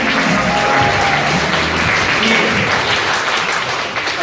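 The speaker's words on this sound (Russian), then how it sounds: "Бурные аплодисменты команде «Фильмотел»." Loud, sustained applause rings out for a film team at the closing ceremony of a Yakut film festival, a thick wall of clapping that eases slightly near the end.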